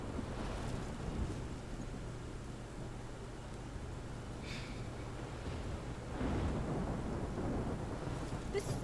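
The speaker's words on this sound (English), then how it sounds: "This is my storm." A thunderstorm with heavy rain in the video game Life is Strange: a constant dense roar of rainfall with low rumbling thunder that swells louder near the end.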